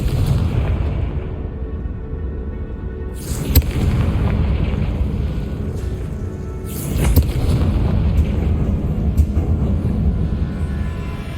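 Confringo blasting-spell explosions from the Hogwarts Legacy game boom heavily over a loud, constant rumbling background, with two sharp bursts arriving a few seconds apart.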